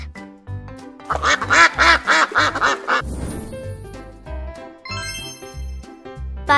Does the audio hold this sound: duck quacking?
yes